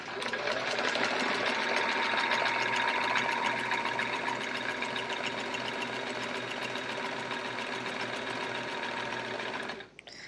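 A quilting sewing machine stitches in the ditch on a chevron quilt with a steady, rapid mechanical whir that runs continuously and up close, then stops abruptly near the end.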